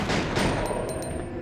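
Gunfire in the video game Resident Evil 2: a dense burst of shots over a steady low rumble, with a few sharp bright cracks near the middle, fairly loud and with no talk.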